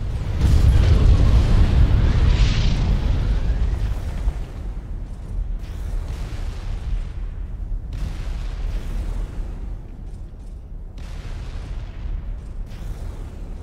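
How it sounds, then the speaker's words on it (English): Halo Wars game MAC cannon fires with a huge deep boom that rolls on as a long rumbling roar, loudest in the first few seconds and then settling into a sustained, noisy mechanical rumble. "Mac firing."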